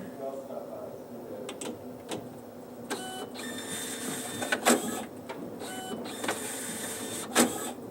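A ticket printer in a cabinet whirs and chatters steadily at moderate volume, punctuated by several sharp clicks and clunks as tickets feed, with a voice speaking over it.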